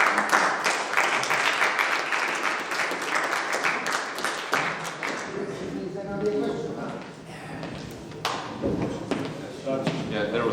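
Audience applause closes a debate on a conference sustainability stage, dense and steady clapping for about five seconds before thinning into scattered claps and murmuring voices.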